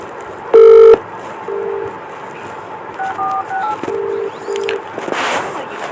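A phone call is placed: a short loud dial beep is followed by quieter tones and ringback pulses over a steady line hum, with faint room noise and no speech.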